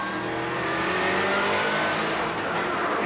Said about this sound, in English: Clark is up the inside into Druids for 2nd place